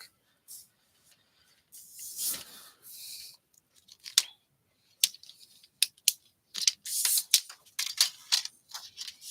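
Scissors snipping through brown craft material, a series of short crisp cuts in irregular bursts, close and quiet, with a faint rustle of the material between snips.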